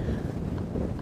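Wind buffets the microphone on open plains during a safari drive, a brief, dense, low rushing roar with no voices.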